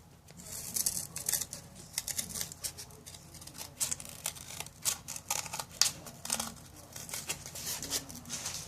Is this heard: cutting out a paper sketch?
yes